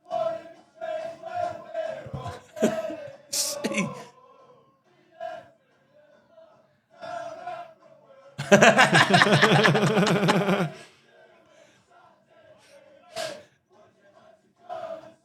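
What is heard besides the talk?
non-league football fans chanting to Disco 2000 by Pulp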